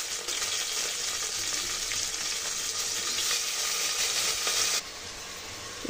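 Chicken frying with onions in a pan for chicken biryani gives a loud, steady, close sizzle that holds throughout and eases slightly near the end.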